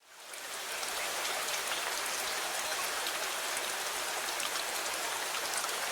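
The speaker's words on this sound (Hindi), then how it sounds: "बारिश की रिमझिम की आवाज से समीक्षा की आंख खुली।" Light rain patters steadily on a window pane, a dense, even hiss of drops that swells in within the first second and then holds at a constant soft level, with no voices.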